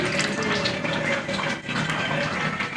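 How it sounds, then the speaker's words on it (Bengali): Rose water poured into a pot of Bengali biryani makes a close, continuous splashing trickle that runs steadily for a few seconds. "আমি এর মধ্যে গোলাপ জল নিয়ে নিলাম"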